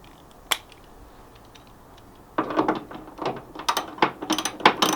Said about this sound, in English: we'll grab our ratchet with the right size socket this time